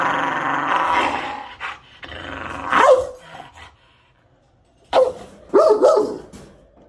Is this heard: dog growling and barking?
yes